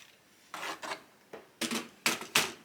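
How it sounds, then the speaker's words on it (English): A computer keyboard is shifted and slid across a desk in a quiet room, making several short scraping and rubbing bursts, close and fairly soft, with no talking. "Let me get my keyboard out of the way."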